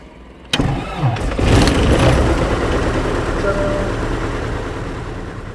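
A small propeller airplane's engine starts up close by with an abrupt loud catch, then a steady, rumbling run. Voices can be heard over the engine noise.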